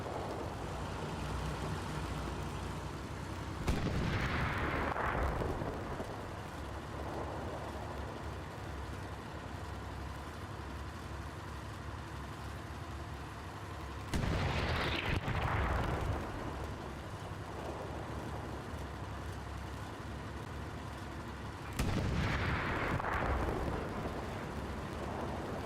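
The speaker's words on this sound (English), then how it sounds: "Good shooting there by Boofy's tank" In the Hell Let Loose video game, a tank fires three heavy booming shots at widely spaced intervals over a constant rumbling engine drone, with no talking.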